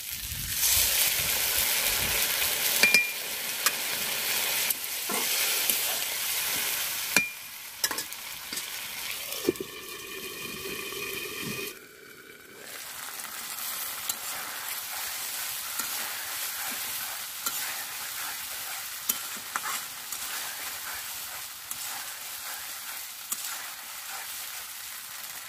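Koi fish cooking with spices in hot oil, a steady close sizzle with stirring scrapes through most of the stretch, briefly interrupted near the middle by a louder bubbling burst before the frying hiss resumes.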